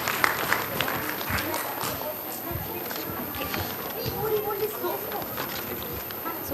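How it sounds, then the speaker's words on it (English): An audience at a preschool annual fest applauds a child, with soft, scattered clapping heard from a distance under chatter and general crowd noise. "Give once again big round of applause for him."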